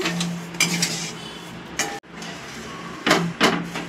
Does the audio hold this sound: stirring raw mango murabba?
yes